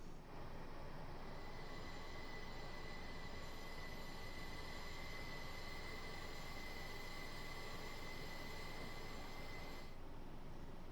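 A train runs steadily along the Portsmouth Direct Line in a train simulator game, with a continuous rumble and a sustained high wheel squeal that cuts off near the end. No talking is heard.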